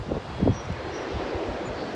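Coastal wind on a hike in Pacifica, a short burst of low buffeting gusts hitting the microphone, rumbling and rustling close and fairly loud, then settling into a steady breezy hiss.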